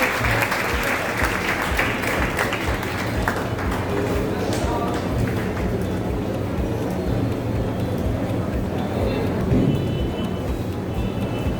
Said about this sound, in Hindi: जोरदार तालियों से सबका स्वागत करिए।